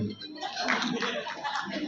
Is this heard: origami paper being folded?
no